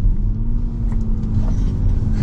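A 2024 Mini Cooper S Countryman engine hums steadily while driving, a constant low drone with a sustained tone running close and even throughout, with no talking.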